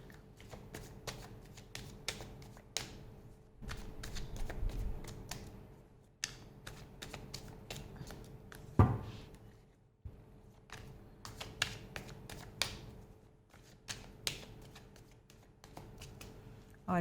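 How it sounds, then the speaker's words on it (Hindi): Playing cards shuffled by hand for a tarot reading, heard as repeated riffling bursts and sharp flutters with brief pauses between passes, close and clear. "कार्ड अच्छे से शफल हो गए हैं"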